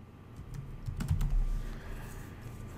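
Quick bursts of keystrokes on a computer keyboard while a password is entered, soft close clicking that rises and fades over a few seconds.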